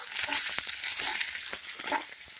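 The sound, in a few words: garlic and chillies frying in oil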